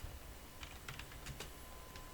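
Quiet, scattered keystrokes tap on a computer keyboard in short, uneven bursts against faint background hiss.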